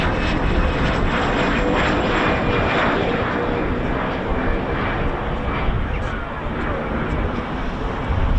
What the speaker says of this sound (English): There's our Embraer Phenom from RAF Cranwell as well.